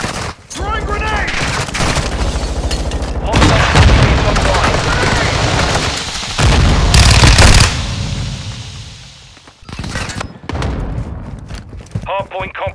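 Grenade blasts and heavy gunfire in a Call of Duty: Modern Warfare 2 Hardpoint multiplayer match, loud bursts of automatic fire and booming impacts packed close together, with brief lulls and in-game voice callouts over the din.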